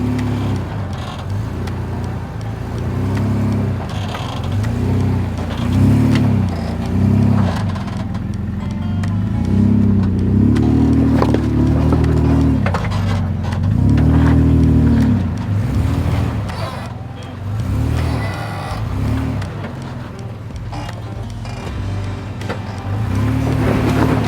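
A 4WD vehicle drives a bypass track with rock steps around Big Red in the Glasshouse Mountains, Australia. The engine note holds steady and close with recurring surges of revving throughout, and no talk is heard.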